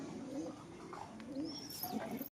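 Pigeons in a loft coo quietly in low, rolling phrases that repeat over a couple of seconds. The birds sound faint and somewhat distant, with a light chirp near the end.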